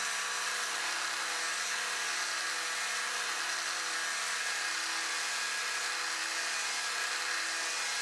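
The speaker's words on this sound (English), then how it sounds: "a sanding drum that I attached to my drill press." A sanding drum on a drill press gives continuous broadband whirring and grinding, steady and fairly loud without pauses.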